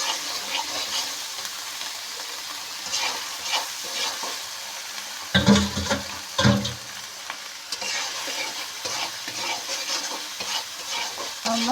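Ingredients for a jackfruit dish frying in a pan, a steady crackling sizzle broken by several louder stirring and scraping bursts, close and continuous.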